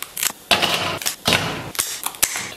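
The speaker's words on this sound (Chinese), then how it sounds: "接下来咱们把螃蟹腿什么的给它剪下来" Kitchen scissors cut through king crab legs with a series of sharp, crisp snips and crunches, close up and irregularly spaced.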